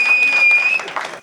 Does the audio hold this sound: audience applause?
yes